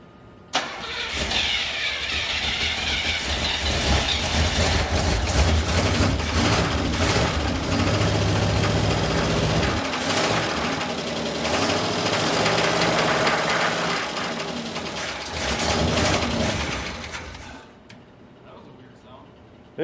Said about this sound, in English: Yeah, but it runs.